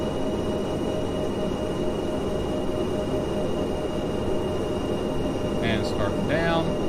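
Steady, loud broadband drone of a light aircraft engine in flight as it throttles back, with a brief voice near the end.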